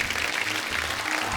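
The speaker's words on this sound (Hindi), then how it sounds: "हमारे सिंह साहिबान के लिए जोरदार तालियां।" A studio audience claps loudly and without a break at a comedy talk show. The clapping is dense and even throughout, and no voices stand out.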